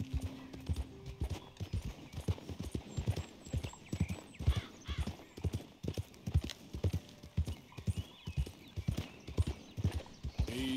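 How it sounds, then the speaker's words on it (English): In the video game Red Dead Redemption 2, a horse gallops at speed, its hooves striking in a rapid rhythmic clip-clop close by, with a brief whinny and soft background ambience. "That is why you need a fast horse."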